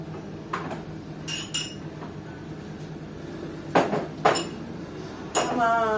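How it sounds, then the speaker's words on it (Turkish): Glass and ceramic clinks ring out several times at irregular intervals, fairly close, over a quiet kitchen background with faint murmuring. "Bardak çıkarayım."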